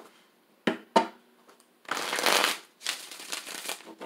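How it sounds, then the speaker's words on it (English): Tarot cards being shuffled by hand: two sharp riffles, then a longer, louder stretch of rapid flapping and bridging, close and clear. "All right, one more shuffle, guys."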